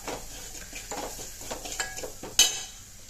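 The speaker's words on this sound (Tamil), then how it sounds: "நம்ம அரைச்சி வச்சுருக்க மிளகு சீரகம் மிளகா வத்தல் இதை வந்து சேர்த்துட்டு நல்லா எண்ணெயிலே கலந்து விட்டுக்கலாம்" Ground pepper, cumin and dried chili being stirred into hot oil in a pan for rasam, soft scraping stirs with faint sizzle and a sharp metallic clink near the end.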